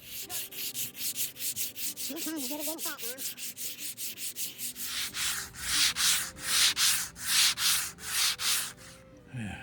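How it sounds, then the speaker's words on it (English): Rhythmic back-and-forth sanding on hickory wood, steady strokes that grow louder and broader partway through, close up with no talking. "You don't want to see me do a bunch of sanding."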